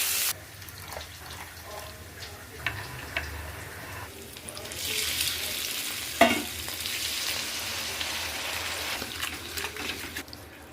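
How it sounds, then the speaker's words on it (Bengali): Ginger and chopped capsicum frying in oil in a home kitchen, a soft steady sizzle with stirring and clinks, rising in intensity midway, and no talk. "সবগুলো আমি তেলের মধ্যে দিয়ে দিই, হালকা করে ভেজে নেব।"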